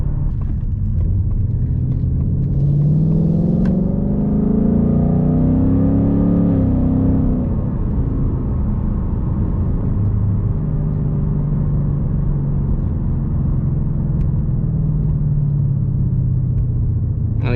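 A 2018-or-later Ford Mustang GT V8 fitted with a Ford Performance calibration kit roars continuously on a dyno, a loud sustained rumble whose pitch rises and eases through the run.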